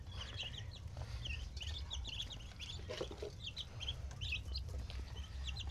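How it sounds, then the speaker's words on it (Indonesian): Young chickens cluck and peep softly in a small group over a low background rumble, the short calls coming in scattered bursts. "berhubung ini ayamnya sudah lumayan besar karena lain jenis dengan entok saya pindahkan"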